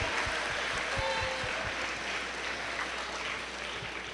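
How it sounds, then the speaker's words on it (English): An audience claps for parents seated at the back of a room. The applause is dense and steady, with a few louder individual claps standing out near the start, then thins slightly toward the end. "Let's give them a round of applause."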